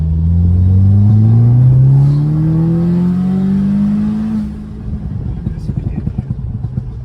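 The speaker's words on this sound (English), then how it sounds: "you can hear the boost when the exhaust is off" A tuned 2015 Audi S3 with a stage 2 tune and aftermarket diverter valve accelerates with a rising engine drone through several gears, then settles into a lower rough rumble with faint fluttering pulses as the boost releases.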